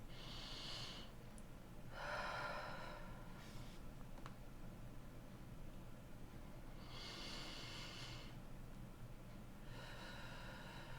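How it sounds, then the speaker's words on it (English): Slow, deep breaths in a quiet room, each long airy inhale-exhale swell rising and fading over a steady low hum, with about four breathy bursts spread across the stretch and no talking. "let's just take 3 deep breaths"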